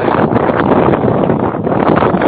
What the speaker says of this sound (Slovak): fúka vietor, takže ak nebudete dobre počuť